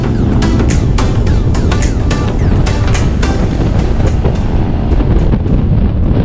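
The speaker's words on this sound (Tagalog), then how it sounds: "grabe naman yung lakas ng hangin nung dumaan kami dito" Loud, constant wind roar buffeting the microphone of a moving motorcycle, with rushing air and rumbling movement filling the whole stretch without letup.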